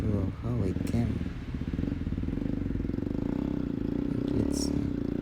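Honda XR motorcycle climbing a rocky offroad trail in Kenya on light throttle, a steady close-up thumping engine note with clattering from the ground, while a rider talks over it.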